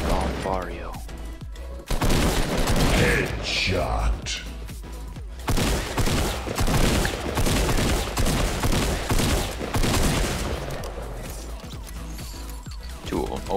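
Rapid sustained minigun fire in the video game Fortnite, loud dense bursts of automatic shots with brief gaps, continuing across most of the stretch with intermittent booms.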